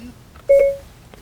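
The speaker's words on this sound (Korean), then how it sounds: "김민범에게 전화 거는 중" Phone dialing tone from Apple CarPlay in a Chevrolet Spark, a single short electronic beep tone inside the car cabin, clear and alone.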